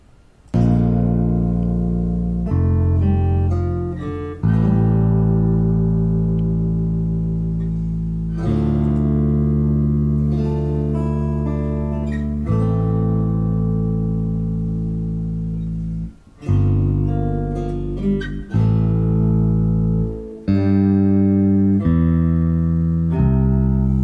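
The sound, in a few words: second movement of a composition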